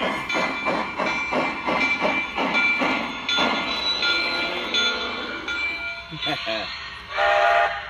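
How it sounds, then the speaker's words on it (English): A Lionel Legacy model train engine runs with a steady rhythmic chuffing, followed by whistle-like tones and sound-effect bursts near the end. A voice speaks over part of it. "Arriving on track number one, train number 960, Smokey."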